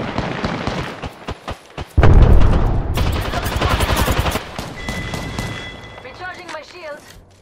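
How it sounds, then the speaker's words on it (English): Gunfire in the shooter game Apex Legends: rapid bursts of automatic fire and sharp single shots, loud and dense, with an in-game voice line over the shooting. "They're shooting someone out there!"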